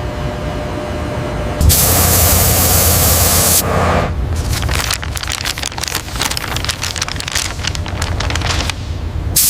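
Spray coating a Grumman F-14A Tomcat fighter jet in a restoration hangar in Bethpage: a loud, steady hiss of spray bursts in for about two seconds, then gives way to a dense, crackling, uneven spray that runs to the end.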